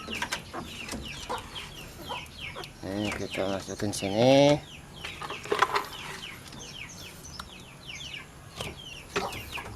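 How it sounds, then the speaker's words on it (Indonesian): Backyard chickens, four months old, cluck and squawk in a home yard, with repeated close clucks and a louder drawn-out call in the middle, while a person talks and sets out feed containers. "Ayam-ayamnya masih di dalam guys."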